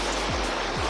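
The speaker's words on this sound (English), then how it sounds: "This is the river." River at a tramping track crossing on New Zealand's Mt McIntosh loop, a steady broadband rush of flowing water filling the short clip without any voices.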